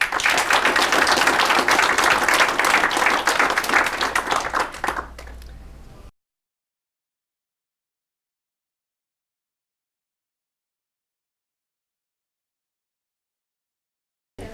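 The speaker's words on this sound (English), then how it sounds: "give Guy a round of applause" A workshop audience applauds a speaker with dense, steady clapping for about five seconds, then it tapers off abruptly and silence follows.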